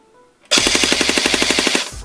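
A Golden Eagle Nambu Type 96 airsoft light machine gun fires one sustained full-auto burst of about a second and a half, a fast, even, mechanical rattle of shots that starts abruptly and cuts off cleanly, loud and close with no talking.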